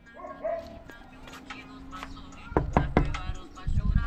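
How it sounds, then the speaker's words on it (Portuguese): A pitbull barks and yips in short, sharp bursts near a beach, the barks clustered toward the end amid people talking and some knocking sounds. "Ai, meu Deus, é um pitbull."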